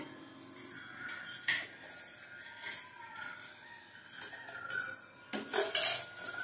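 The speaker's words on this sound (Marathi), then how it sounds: "आता आपण भेलला एका प्लेट मध्ये काढू।" Bhel is spooned from a bowl onto a plate, with light metal utensil scrapes and small clinks against dishware, a few sharper taps near the end, quiet and close.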